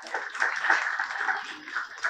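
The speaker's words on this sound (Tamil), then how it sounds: "அவருக்கு ஒரு கைத்தட்டல் கொடுப்போமே." Audience clapping after a devotional Thevaram song at a book launch event, a steady, moderately faint patter of applause from a seated crowd.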